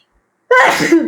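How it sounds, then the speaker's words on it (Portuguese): A single loud sneeze bursts out abruptly after a moment of silence, close and sharp, then trails off quickly. "Vou espirrar."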